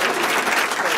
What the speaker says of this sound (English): The teams are clapping for Sonia